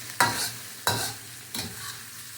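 Soft onions fry in a pan for a vegan mapo tofu with broccoli and mushrooms, stirred in three distinct scraping sweeps over a steady low sizzle, close and clear with no talking.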